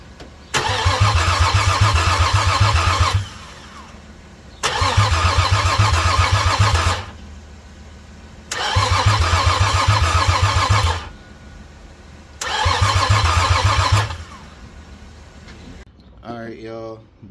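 Infiniti G35 engine under rebuild cranking without catching, four long bursts of loud, rhythmic starter whirring separated by short pauses, close by, with a brief voice at the end.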